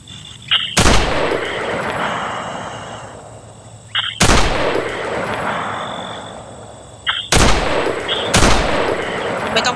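Gunfire in a video game during a machine gun section, coming as four loud, sharp bursts spread across the span, each trailing off into a lingering decay over steady background ambience.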